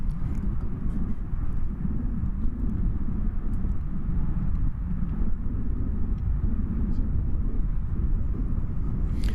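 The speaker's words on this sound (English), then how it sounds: "This will be flight 3285 from Denver, Colorado, American Airlines, and Airbus A321" An American Airlines Airbus A321 passing on approach to DFW Airport, a low, steady engine rumble heard from a distance that holds for several seconds with no talk.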